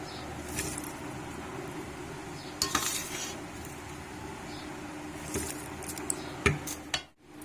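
Mango pickle in mustard oil is spooned into a jar with soft scraping and clinks of spoon against glass, a few sharper taps standing out over a quiet background.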